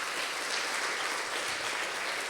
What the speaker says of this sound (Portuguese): Aplauda Jesus aí bem forte.